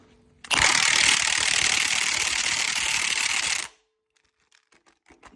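Milwaukee 1/2 inch power tool working on a cylinder head bolt during a K24 engine teardown, one loud continuous rattling burst of about three seconds, close, then a few faint clicks.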